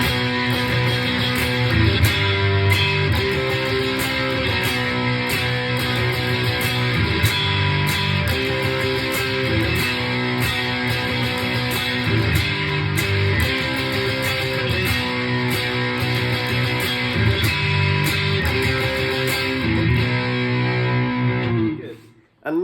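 Guitar strums the chord progression of a song in a steady strumming pattern, full and continuous at close range for about twenty-two seconds, then cutting off abruptly at the end.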